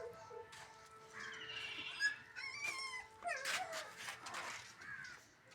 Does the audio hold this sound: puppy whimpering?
yes